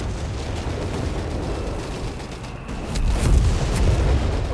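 Gunfire from troops charging forward in Company of Heroes 3, a steady rumble of distant shots and explosions that swells into louder, closer booms and bursts near the end, with no voices.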